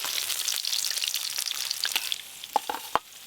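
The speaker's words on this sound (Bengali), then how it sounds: "দেখতে দেখতে এই মাছগুলো ভাজা হয়ে গেল।" Tengra fish frying in hot oil give off a loud, continuous crackling sizzle with a few sharp pops near the end, close up and without talk.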